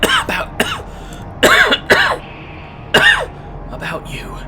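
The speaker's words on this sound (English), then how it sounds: "He tries to clear his throat, but that results in a coughing fit." A character in the Underrail video game breaks into a coughing fit, a run of hoarse, throaty coughs and rasping clearing sounds in quick uneven bursts, close and loud.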